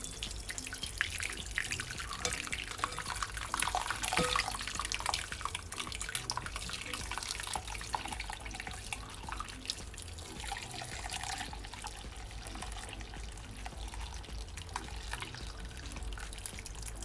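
Ginger lemon honey tea is poured through a strainer into a bowl, giving a steady soft trickling and dripping of liquid that runs throughout at low level.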